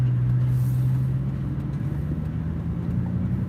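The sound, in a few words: cars passing by on a road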